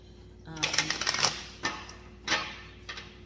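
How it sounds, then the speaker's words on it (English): A deck of oracle cards being shuffled by hand, giving rapid crisp clicking flutters in a burst followed by a few separate snaps, close and fairly loud. "So I'm gonna shuffle these a few times"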